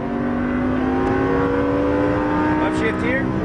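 Lamborghini Gallardo LP570-4 Superleggera on track, its engine accelerating hard in a loud, close, rising roar with harmonics climbing steadily, a brief shift near the end, while a coach speaks over it.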